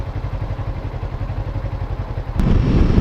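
A motorcycle engine idles steadily with a low, throbbing pulse, growing louder and rougher near the end as the revs pick up slightly.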